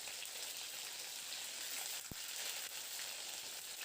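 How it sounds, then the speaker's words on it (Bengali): Cut flat beans fry in hot oil with black cumin, giving a quiet, steady sizzle and crackle like light rain, with one brief soft knock partway through. "এবার কেটে রাখা সিমগুলোকে দিয়ে ভেজে নেব"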